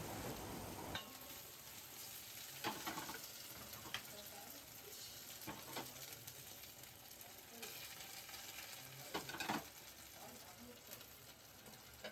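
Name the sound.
stirring fried mustard seed tempering into a dish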